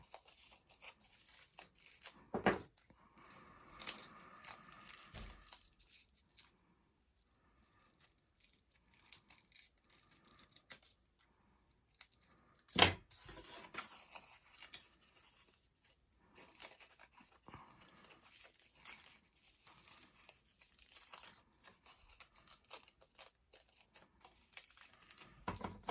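Scissors snip through crepe paper while pine cone petals are cut, producing quiet intermittent cutting and rustling sounds with soft paper crinkles and brief louder snips. No one speaks.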